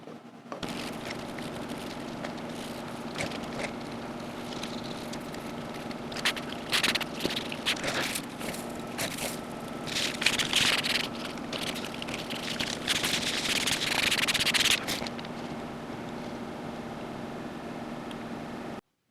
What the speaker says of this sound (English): Now it's time to crinkle up and stuff a little bit of foil in here.